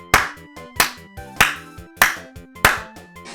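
Five or so sharp, evenly spaced claps ring out close and loud with a slightly synthetic, reverberant snap, like a canned applause effect, each one decaying before the next.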